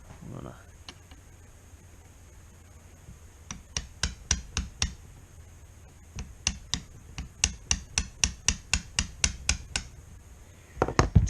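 A reverse bushing is tapped out of a Saginaw 4-speed transmission with a quick run of sharp metallic taps, about twenty close strikes in a steady rhythm, after a quiet start with a few isolated clicks.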